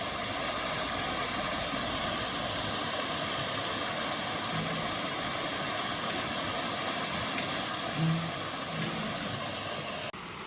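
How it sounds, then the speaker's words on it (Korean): A waterfall at Ssanggok valley roars with a steady, dense broadband rush of falling water, loud and close, continuous throughout with no voices. "폭포에 도착하니 제법 물소리가 우렁차다."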